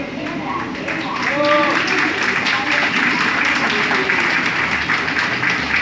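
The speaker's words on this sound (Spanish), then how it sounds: "quisiera que le brindáramos un aplauso." An audience at a community gathering in El Maguey, Cuitláhuac, Veracruz, breaks into applause that swells into a steady, crackling wash of clapping, with voices mixed in.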